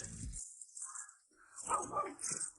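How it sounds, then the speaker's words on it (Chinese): A dog on a remote mountaintop farm in rural Guizhou, China, gives a couple of short barks at middle distance, separated by brief quiet gaps. "我天哪，听到狗叫了！"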